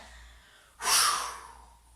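A single forceful exhale during a sophrology relaxation exercise, a sudden close breathy rush of air that fades over about a second.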